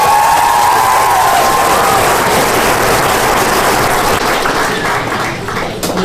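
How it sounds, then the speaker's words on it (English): A graduation ceremony crowd at Bard High School Early College Manhattan applauds loudly, with dense clapping mixed with cheers and scattered shouts, tapering a little near the end. "Please welcome her with applause."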